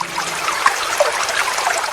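River water flows steadily nearby, a continuous bright babbling and trickling with small splashes and no voices.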